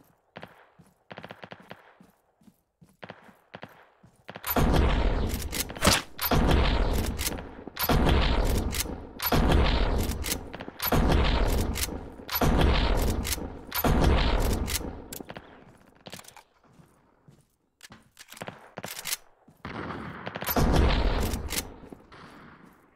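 Heavy gunfire in a hunting video game comes in repeated long automatic bursts separated by short pauses, loud and close, with scattered single shots between the volleys.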